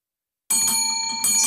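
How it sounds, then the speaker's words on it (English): A bell is rung in celebration, its bright metallic ringing starting abruptly and sustaining with a second strike near the end, clear and close with no other sound. "I was ready with the bell because I knew"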